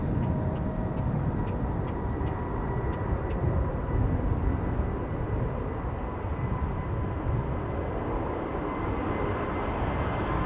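Delta Airlines Airbus A330neo in Team USA livery departing Schiphol, a steady broad jet roar held at constant loudness throughout, with no voices.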